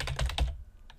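Quick bursts of clicking keystrokes on a computer keyboard while entering a backup comment, close and clear, trailing off into near silence with one last faint tap.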